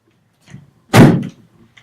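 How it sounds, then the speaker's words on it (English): A single loud, close door slam on a theatre stage, a sharp bang that dies away within a fraction of a second, with faint shuffling before and after. "So she slammed the door, and that was that."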